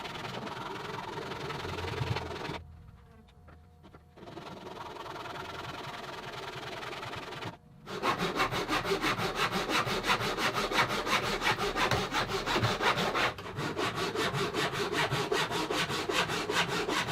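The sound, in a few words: sawing tapered wood pieces for a guitar rosette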